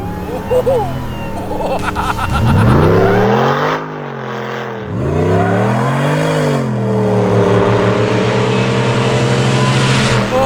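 An 800-horsepower Vigilante Jeep Grand Wagoneer accelerates hard, its loud engine climbing through the gears with a rising whine, a brief lift around four seconds, then pulling strongly again. Someone speaks over the engine noise.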